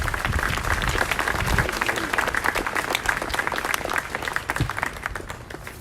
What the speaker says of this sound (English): A round of applause for these inspirational leaders.